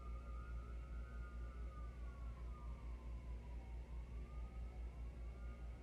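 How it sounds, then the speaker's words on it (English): Emergency vehicle sirens wail outdoors, faint and far off, their rising and falling tones sweeping over a low rumble of traffic. "Do you hear those sirens?"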